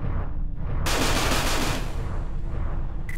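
Weapon fire from a spaceship in the space combat game Everspace, shooting down incoming missiles: a loud sustained burst of rapid shots and blasts with a steady rumbling bed underneath, ending in a brief high-pitched tone.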